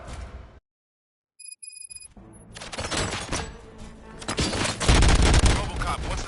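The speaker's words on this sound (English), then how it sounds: "Gunshots?" Dense bursts of gunfire from the RoboCop video game erupt after a brief silence and a few electronic tones, building into loud, rapid volleys that grow heavier toward the end.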